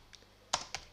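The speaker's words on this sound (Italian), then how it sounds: "digitare il nome del progetto, chiamiamolo presentazione" Computer keyboard typing while a project name is entered in Shotcut editing software: a few faint taps, then two sharper, louder keystrokes close by, with no talk.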